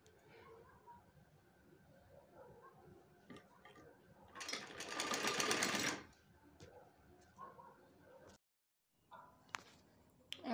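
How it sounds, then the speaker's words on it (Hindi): A sewing machine stitches the front joint of a lined salwar in one loud, close burst of rapid mechanical whirring lasting a couple of seconds, with quieter handling clicks and faint background before and after. "अब ये जो आगे वाला जॉइंट है उसकी हम सिलाई करेंगे।"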